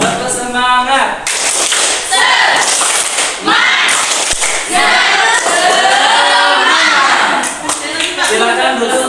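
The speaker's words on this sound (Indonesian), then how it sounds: "Perhatikan, tepuk semangat." A school classroom of high-school students claps a rhythmic spirit cheer, loud and close, with sharp clustered claps in patterned bursts mixed with voices chanting along.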